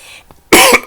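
A single loud, close cough bursts out after a quiet moment, followed by a short rough catch of breath.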